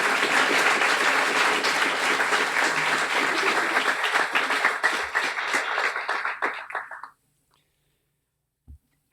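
Audience applause at a Guiding Eyes guide dog graduation ceremony, a dense sustained round of clapping that thins into scattered claps and stops after about seven seconds, followed by silence and a couple of faint knocks.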